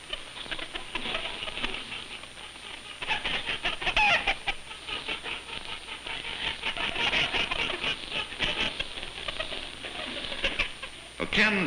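Molting hens cluck and scratch around a farmyard in a busy, irregular patter of short calls and rustling, moderately close, with no speech heard.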